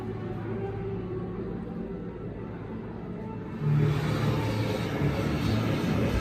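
A low, steady whooshing rumble of a wind sound effect from an interactive exhibit button, swelling louder partway through and holding, with no voices.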